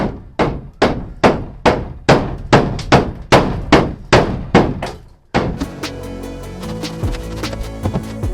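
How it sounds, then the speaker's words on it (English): About ten sharp hammer blows in a steady rhythm, close and loud, followed by a ringing metallic clatter and hum. "Hammer."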